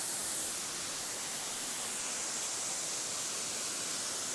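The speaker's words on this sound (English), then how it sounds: "The fountain of Neptune takes the name by the bust of the god of the ocean, Neptune, just behind the waterfall" The waterfall of the Fountain of Neptune at Villa d'Este gives a constant, dense rushing roar of falling water, even and unbroken throughout, with no voices.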